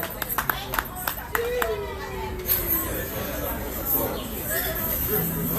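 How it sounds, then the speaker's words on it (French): Sparse, scattered clapping from a crowd at a community sharing-day event, a handful of sharp claps early, then lively chatter and children's voices take over with faint applause underneath. "On les applaudit très fort"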